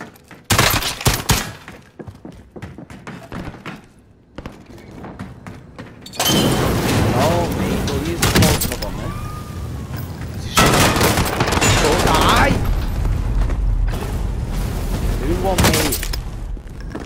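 Automatic gunfire in the Call of Duty Warzone video game comes in loud, rapid bursts and sustained volleys with heavy thuds. A voice is briefly heard among the shots.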